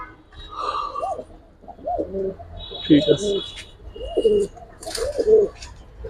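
Military Lal Patti, Hemar and Bezi pigeons at a pigeon sale coo softly in short repeated bursts, with brief talking and faint background chatter.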